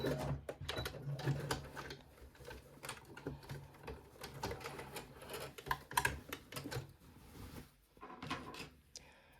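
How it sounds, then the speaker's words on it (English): A domestic sewing machine back stitching near the end of a seam on a jumpsuit, with a fast mechanical needle rattle that starts and stops in short runs of close, steady stitching. "Do a bit of back stitching."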